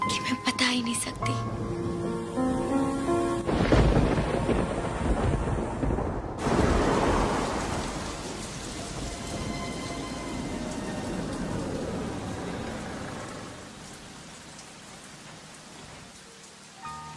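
Heavy rain pours steadily while thunder rumbles and rolls, the storm loud at first then easing off toward the end, with a voice faintly mixed in.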